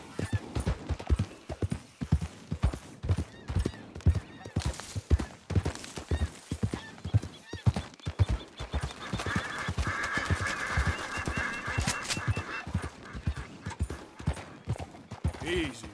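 Horse hooves galloping in Red Dead Redemption 2 during beaver trapping: a steady, rhythmic clip-clop of repeated hoofbeats runs throughout, with a brief whinny and rattling tack in the middle and a rider's short commands.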